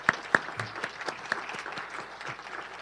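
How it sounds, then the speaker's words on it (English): Rotary Club members clap at a meeting, a short round of applause with distinct nearby hand claps over a softer wash of clapping from the room. "let's go ahead and give a clap for everybody who's here"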